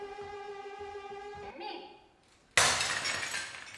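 Plates are smashed on stage during a second-act scene of an opera, a sudden loud crash of shattering crockery that follows a stretch of sustained orchestral or vocal tones and ends in ringing debris.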